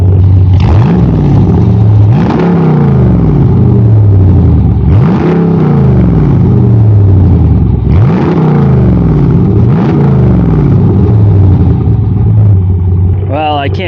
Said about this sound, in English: See what she sounds like when I rev her up a little bit?